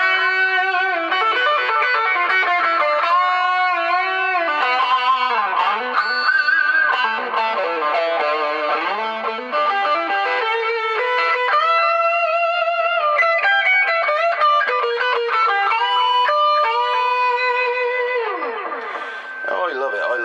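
An electric guitar played through a 1980s Award Session Rockette 30-watt solid-state amp with echo, loud sustained notes and chords with repeating trails running the whole time, no talking.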